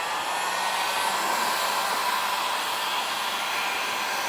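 A heat gun blows hot air steadily onto vinyl wrap on a car fender, a constant close whooshing roar with no breaks.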